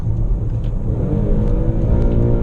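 A 2017/18 Infiniti Q70's naturally aspirated engine rumbles loudly and revs, the pitch dropping and climbing again as it downshifts, a close, continuous growl with no voices.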